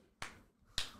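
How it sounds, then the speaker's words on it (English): Two sharp, bright claps or snaps about half a second apart, each a crisp broadband transient that decays quickly against a quiet background, sounding close and fairly soft. "And then you hear somebody clapping"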